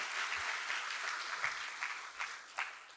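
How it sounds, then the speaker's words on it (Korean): Soft audience applause after a talk at a Linux kernel security conference session, a modest crowd clapping at a distance, quiet and fairly steady with a few louder individual claps near the end. "일단 박수로 발표해 주신 유차님께 감사의 표시 드리겠습니다."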